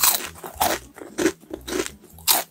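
Banana-flavoured popcorn snack is crunched close to the mouth in four or five crisp, evenly spaced bites, each a sharp crackling burst followed by quieter chewing.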